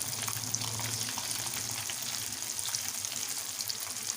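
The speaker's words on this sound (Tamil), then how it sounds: "மிச்சம் இருக்கிற சிக்கனையும் ஒன்று ஒன்றா எண்ணெயில் போட்டு இப்போ பொரிச்சு எடுத்த மாதிரி பொரிச்சு எடுத்துக்கலாம்." Chicken pieces deep-frying in oil for chicken manchurian give off a steady, soft, hissing sizzle that runs evenly from start to finish, with no voices.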